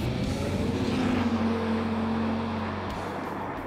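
A 2008 Dodge Viper with a 600-horsepower V10 drives at speed in Texas, a loud, steady engine drone with a sustained tone and no voices.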